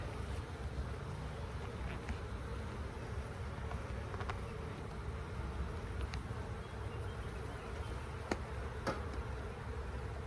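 Angry honeybees swarm around an open hive during a check for swarm cells, a steady dense buzzing drone lasting throughout at close range, with a few brief clicks and knocks of hive handling and no talking.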